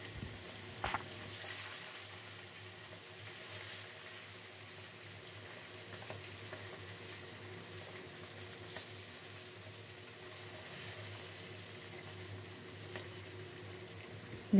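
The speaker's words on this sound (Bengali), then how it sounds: "কড়াইতে সর্ষের তেল দিয়ে দিয়েছি, তেলটা গরম হয়ে এসছে। এবার এক এক করে সব মাছগুলো ভেজে নেব।" Fish crackle faintly in hot mustard oil in a wok, a soft steady sizzle with scattered small pops and a brief clatter near the start, continuing evenly throughout.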